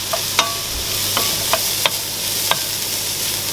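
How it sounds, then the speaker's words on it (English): Onions and green chilies frying in desi ghee, a continuous loud sizzle close up, broken by a handful of sharp spatula scrapes against the pan at uneven intervals. "I added some desi ghee. I already added that. And now I'm gonna add my onions and green chilies."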